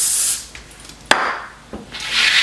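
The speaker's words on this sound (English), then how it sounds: "I'm going to spray my cookie sheets just with some vegetable spray" Vegetable cooking spray sprayed onto cookie sheets in a home kitchen, with two short hissing bursts at the start and end, separated by light clatter and rubbing sounds, no talk.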